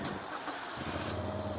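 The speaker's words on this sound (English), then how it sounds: "When you start it up, it shakes to the side." A 2016 Moto Guzzi V7 Stornello motorcycle with scrambler exhaust starts up, a brief crank that catches into a close, steady engine note, heard alone and fairly faint.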